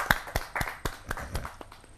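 An audience at a Hindi poetry recital (kavi sammelan) gives a few scattered, sparse claps, distinct sharp hits rather than full applause, fading within two seconds.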